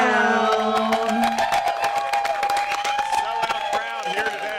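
A sellout crowd at a live Movie Trivia Schmoedown event cheers, whoops and claps loudly, with dense applause running throughout while voices carry over it.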